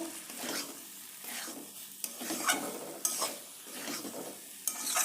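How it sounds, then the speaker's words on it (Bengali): Fried eggplant sprinkled with cumin gets stirred in a pan, a soft sizzle under repeated scraping strokes of a spatula, with several sharp clacks against the pan and no speech. "এবারে উপর থেকে জিরে ছড়িয়ে দিচ্ছি। একটু নাড়াচাড়া করে আমি নামিয়ে নেব।"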